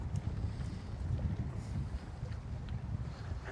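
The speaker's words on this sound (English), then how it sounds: "It is super windy." Strong wind on Lake Guntersville buffeting the microphone, a steady low rumbling roar with gusty swells throughout, close and unbroken, no talking.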